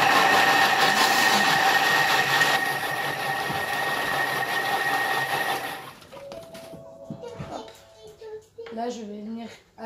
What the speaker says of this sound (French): je vais venir mettre mes tomates et je vais venir les mixer